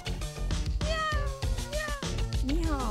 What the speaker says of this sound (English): A cat says meow.